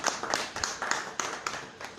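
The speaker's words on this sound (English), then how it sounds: "a round of applause as I welcome Charles Achodo" An audience claps to welcome a speaker onto a panel on fighting insecurity and reforming Nigeria's security architecture, giving a short, moderate burst of applause with uneven hand claps over two seconds.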